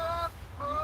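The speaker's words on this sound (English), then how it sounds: "Now, this is a white leghorn." A white leghorn hen, a commercial egg-laying breed, in a backyard coop gives two short, honking clucks separated by a brief pause, close and fairly loud, with no talking.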